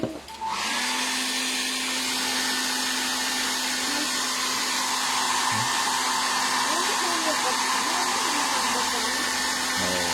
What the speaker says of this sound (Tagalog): Gumagamit din ako ng hair blower para mas madali matuyo